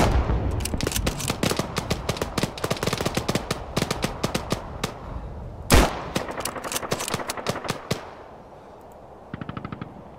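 Rapid bursts of automatic gunfire from the Arma 3 co-op shooter, loud and close, with dense rattling volleys, a heavier blast near the middle, then fading into quieter, more distant shots.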